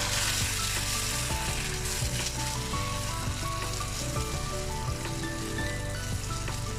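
Tomatoes sizzle and fry in hot mustard oil for Peshawari chickpeas, a dense steady crackle with bursts of popping and occasional stirring throughout.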